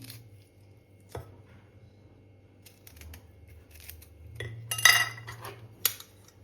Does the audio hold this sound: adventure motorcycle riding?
no